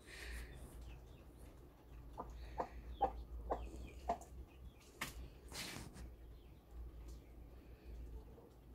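Hens and chicks of the Araucana (green-egg) breed, naturally hatched, cluck and peep softly in short scattered calls over a low background hum, faint and close, with no talking.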